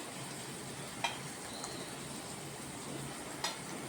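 Paneer curry ingredients fry in a pan with a faint, even sizzle and a couple of brief clicks from stirring.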